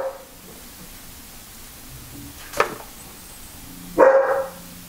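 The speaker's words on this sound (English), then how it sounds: "let me go find out what he's barking at." A dog barking indoors, two sharp barks a couple of seconds apart, the second louder and longer, over a quiet steady room hiss.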